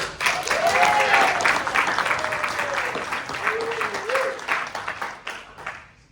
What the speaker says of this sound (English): Now give a round of applause for SOE.